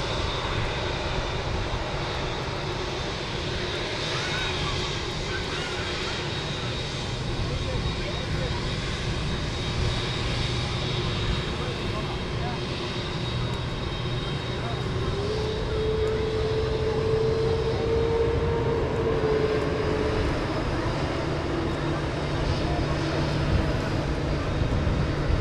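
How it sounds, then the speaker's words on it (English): An Emirates Airbus A380 jet airliner at Manchester Airport gives a steady, loud engine roar that holds throughout and swells slightly toward the end, with a faint voice partly heard underneath. "Here comes the Emirates A380."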